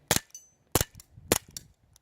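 A Sig Sauer 1911 Max Michel .177 caliber BB air pistol with blowback fires three sharp, close pops at an even pace, each followed by a faint metallic clack of the slide, with no talk.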